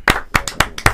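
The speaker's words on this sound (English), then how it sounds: "Can we get a round of applause?" A handful of sharp, separate hand claps, about four in quick succession, close and distinct rather than a full crowd's applause.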